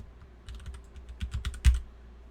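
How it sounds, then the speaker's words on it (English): Quick bursts of typing on a computer keyboard, close and fairly crisp, with irregular clusters of keystrokes and a firmer final tap, no voices. "we just start typing and press tab"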